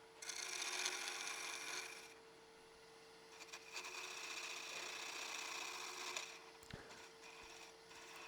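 Gouge cutting a wooden insert spinning on a lathe, a steady raspy scraping hiss that comes in long stretches, dropping quieter mid-way before the cut resumes, with a faint motor hum underneath and no talking.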